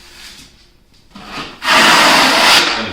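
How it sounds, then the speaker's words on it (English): Drywall compound is scraped off a wall with a tool: quiet rubbing at first, then a loud, steady, harsh rasping scrape that fills the second half. "you scrape off enough of this"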